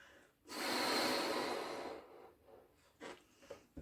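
One long, strong exhalation pushed into a balloon to inflate it, loud and close, followed by faint rustles and small handling sounds.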